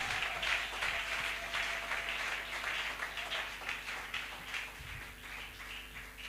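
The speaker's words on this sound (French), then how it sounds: "Est-ce qu'on peut encore acclamer très fort?" A church congregation applauds and cheers, a sustained, dense wash of clapping that sounds somewhat distant and fades slightly toward the end, with no clear voices on top.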